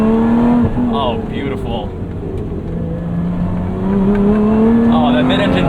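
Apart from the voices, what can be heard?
Lotus Emira mid-engine car accelerating under throttle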